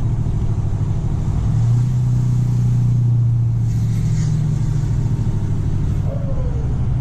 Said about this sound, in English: you can hear the turbo putting in a little bit of extra work